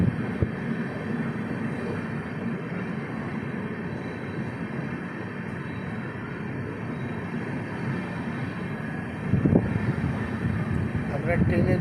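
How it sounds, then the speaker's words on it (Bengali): Steady rumbling roar of the Ajmer–Sealdah superfast express heard from aboard while it runs, a continuous broadband rush with wind buffeting, brief louder clatter near the end. "ট্রেন যাচ্ছে।"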